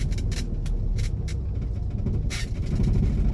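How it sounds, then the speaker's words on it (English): A Corvair car engine idles and rumbles just after a downshift. The low engine drone is steady and close, with a few brief higher hissing bursts over it, and no one speaks. "Not gonna go crazy, just right there, just downshifted"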